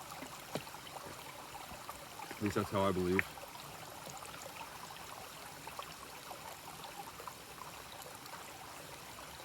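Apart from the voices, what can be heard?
stream at a water source on hiking trail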